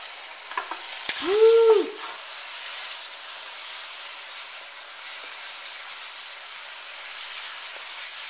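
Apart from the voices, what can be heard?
chicken stir fry sizzling in hot wok oil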